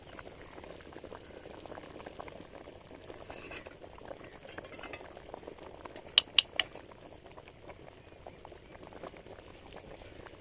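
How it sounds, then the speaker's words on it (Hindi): Water boils in a cooking pot for chana pulao, a soft continuous bubbling and pattering heard close and alone, with a few brief sharp clinks midway. "माशाल्लाह से पानी में बॉयल शुरू हो चुका है।"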